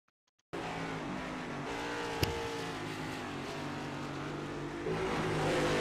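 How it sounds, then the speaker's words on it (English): Replay audio of a stock car in iRacing on the Charlotte Roval, with a loud, constant engine roar starting abruptly after a moment of silence, a sharp click partway through, and the sound swelling near the end. "You see how much the wheels were chattering there on that number 25"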